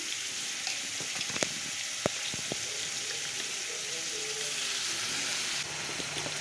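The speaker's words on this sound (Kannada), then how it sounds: "ಟೊಮೆಟೊ ಹಣ್ಣು ಹಾಕಿ ಮೇಲೆ ಫ್ರೈ ಮಾಡಕ್ಕೆ ಬಿಡ್ರಿ" Onions and tomatoes frying in a pan, giving a steady broadband sizzle that runs throughout, with a few faint clicks of stirring and utensil contact near the hob.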